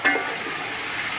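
Tomatoes, potatoes, dried plums and tamarind sizzle and crackle in hot oil in a pan for Sindhi biryani, a close, steady frying hiss with a soft stir at the start.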